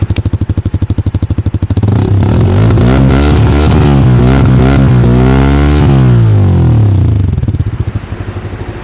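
A Bajaj CNG motorcycle engine idles with a steady putter, then the throttle is opened and it revs loudly, rising and falling in pitch several times before settling back.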